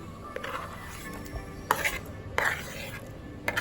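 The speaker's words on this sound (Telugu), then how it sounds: "ఇవి యాపిల్ ముక్కలు వేస్తున్నా. నెక్స్ట్ వచ్చేసి మ్యాంగో వేస్తున్నా" Apple and mango pieces drop into sago custard. Several distinct soft plops and clinks stand out over a quiet background, and there is no speech.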